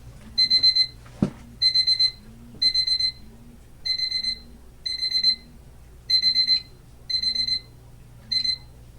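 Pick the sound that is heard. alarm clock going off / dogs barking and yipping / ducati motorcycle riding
alarm clock going off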